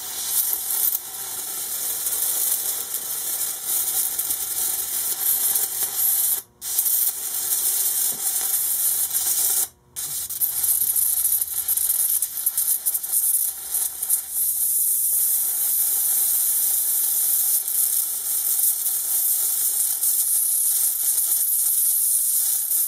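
Steady loud crackling hiss of an electric arc furnace melting a steel screw between two electrodes, continuous with two abrupt brief cutouts before resuming.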